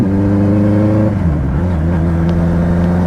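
A car engine fitted with two catalytic silencers revs loudly and close, its deep droning tone dropping and then holding steady at a low rumble.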